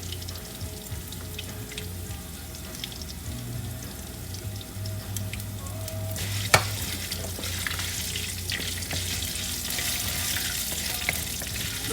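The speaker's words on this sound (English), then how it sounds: "Also fry this for another probably 30 seconds. You want it to really fry nicely." Black pepper chicken masala frying in a pan, a steady crackling sizzle with occasional stirring sounds and one sharp clack partway through.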